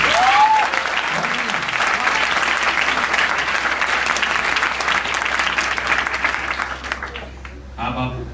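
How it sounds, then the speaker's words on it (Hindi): Audience at a Hindi poetry gathering (kavi sammelan) bursting into loud, sustained applause that fills the room for several seconds, then fades out near the end as a voice briefly comes in. "गई हो तो जोर से ताली बजाओ।"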